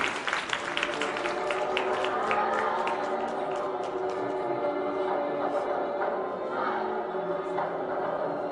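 A crowd at a Tết Kỷ Hợi (Lunar New Year) stage show applauds steadily throughout, dense clapping blending with cheering and music.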